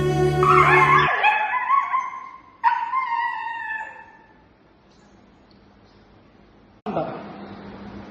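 Stray dogs let out of cages at an animal facility in Sattenapalli, yelping and whimpering loudly and close by in several bursts separated by a quieter gap, with people talking nearby.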